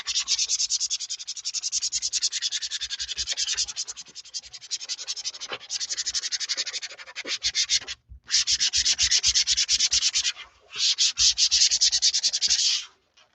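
A mini journal or book surface is scraped hard to roughen it for glue, giving loud, close, rhythmic rasping strokes in several long bursts separated by brief pauses.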